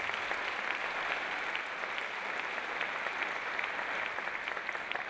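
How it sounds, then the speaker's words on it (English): Crowd at an evening book lecture gives a sustained round of applause for local community organizations, many hands clapping in a steady, crisp rush that carries evenly throughout without any speech. "Let's give all these organizations a round of applause."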